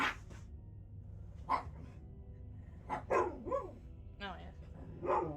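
Dogs at play in the background let out scattered barks and yips in several separate bursts, fairly faint, with quiet gaps between them.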